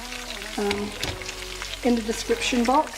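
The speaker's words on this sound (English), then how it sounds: "at the moment I've got one large red Spanish onion frying in oil" A large red Spanish onion frying in oil gives a steady sizzle and crackle under a voice that talks through most of it.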